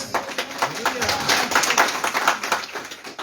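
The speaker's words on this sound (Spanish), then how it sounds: "Dale palmas a Cristo." A church congregation claps hands in praise at a lively spiritual celebration, a steady rhythmic patter running the whole time beneath a loud voice.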